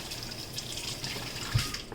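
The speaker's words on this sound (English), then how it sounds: "I'm gonna run the hot water over it" Hot tap water running over a plastic sandwich bag in a sink, a soft continuous splashing stream with a brief louder gurgle near the end, close and quiet.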